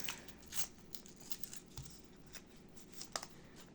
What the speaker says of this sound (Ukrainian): давайте відкриємо якийсь ось такий прималесенький пакетик